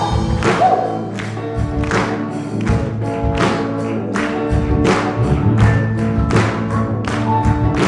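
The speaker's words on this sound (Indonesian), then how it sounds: "Saya minta semua tepuk tangan di atas kepala, boleh?" A church congregation claps hands overhead in a steady rhythm during a worship service, the sharp claps repeating over sustained music throughout.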